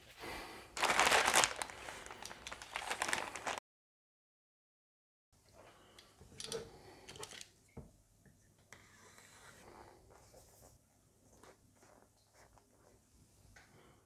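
Quick unboxing of a Xiaomi Mi 9T smartphone: rustling, crinkling packaging and cardboard handled close by, loud at first, then softer scrapes and light taps after a short gap of silence.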